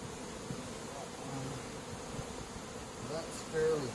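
Honey bees buzz steadily around an open hive as a beekeeper works it in summer, a dense, even drone throughout with a slight swell near the end.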